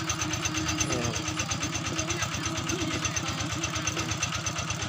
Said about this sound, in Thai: แล้วเราก็ค่อยไปสูบบ่อทางนู้นอีกครับแล้วก็สูบบ่อนี้เล่นก่อน